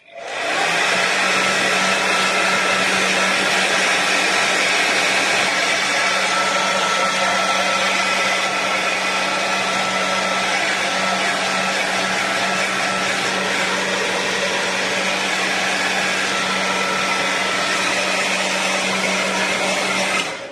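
A hair dryer blows continuously to dry ink on a tag, a loud, steady whooshing motor roar with a low hum that runs unbroken for about twenty seconds, close by with no talking.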